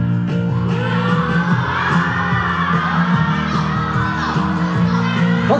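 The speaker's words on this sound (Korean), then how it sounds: "박수." A crowd of children in a school auditorium claps and cheers loudly at a science magic show featuring a hot-air balloon, a continuous dense wash of applause and excited shouting.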